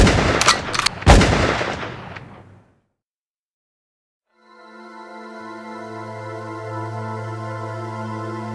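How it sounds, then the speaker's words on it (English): Gunshot sound effects in a hip-hop track: a few loud, sharp bangs in the first two seconds, then near-silence before sustained synth tones and a low hum rise. "Shoot them both, Grady"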